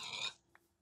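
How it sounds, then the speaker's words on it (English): A single pig grunting in Minecraft, one short, soft snort that fades quickly, followed by near silence with a faint tick, and no voices. "More pigs."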